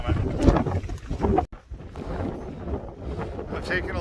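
Strong mountain wind rushes between two peaks on the GR20 trail in Corsica, buffeting the microphone with a loud roaring rumble that dips briefly, then keeps blowing steadily.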